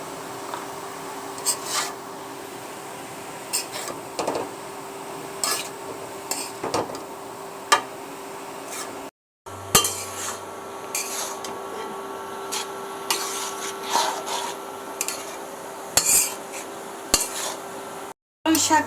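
Spinach greens fry in a pan with salt and green chilies while a utensil stirs them, giving scattered scrapes and clinks against the pan over a low steady hum.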